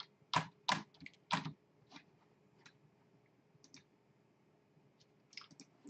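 Someone types on a computer keyboard, with a few sharp key clicks close by at the start followed by sparse, faint taps in an otherwise quiet room.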